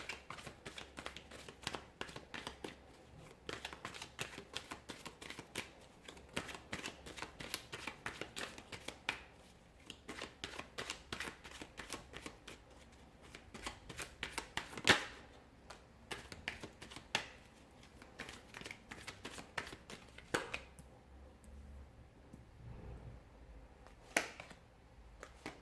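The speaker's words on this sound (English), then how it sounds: "we'll give the cards a shuffle" Rapid, dense riffling of tarot cards being shuffled, a long run of crisp clicks and flutters close by, with a brief pause near the end.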